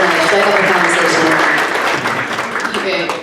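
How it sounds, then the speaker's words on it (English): Audience applause at a student leadership academy's annual Passing the Torch ceremony: steady, dense clapping from a crowd that fills the room throughout, with voices mixed faintly underneath. "Let's give a round of applause for them."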